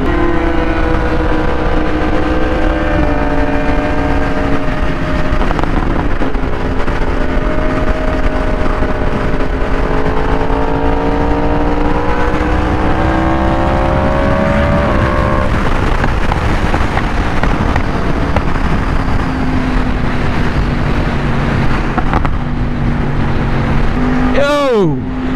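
A 2023 Yamaha R1 sport motorcycle at high speed, its engine a loud, continuous drone whose pitch climbs and falls with the revs, under heavy wind rush throughout.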